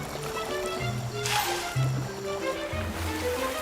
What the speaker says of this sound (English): Another common behavior that helps them keep their cool is bathing.